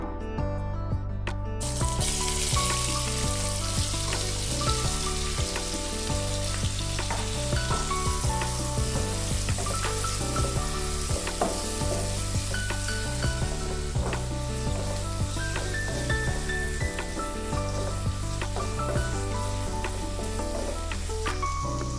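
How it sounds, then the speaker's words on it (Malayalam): Onions fry in a pan for a Malayalam crab kadai, a dense continuous sizzle with frequent small crackles and occasional stirring, steady and close, no voices over it. "അപ്പോൾ നമ്മുടെ ഉള്ളി നന്നായി വഴന്നു വന്നിട്ടുണ്ട്"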